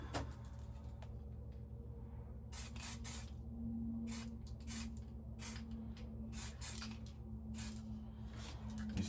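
An airsoft Krinkov AK47 gets a coat of Duracoat from a spray can, with short hissing bursts repeating at an uneven pace over a steady low hum, close by and with no talking.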